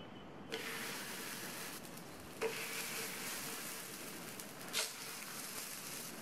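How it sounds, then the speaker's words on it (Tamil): Adai batter made with green gram spread on an oiled dosa pan, sizzling and frying steadily at close range, with a few soft clinks and taps over a constant hiss and no speech. "தட்டி வச்ச அடையை ஒவ்வொன்றா எடுத்து தோசைக்கல்லில் வச்சிடலாம்."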